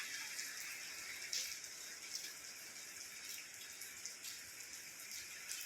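Heavy late-monsoon Bhado rain shower, a steady, dense hiss of falling water with occasional louder splashes, continuous and fairly close, with no talk.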